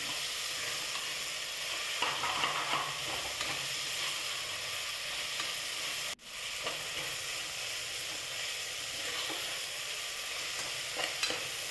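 Chopped onion and tomato sizzle steadily in hot oil for mushroom biryani, with repeated scraping stirs of a spoon against the pan and one brief dip midway.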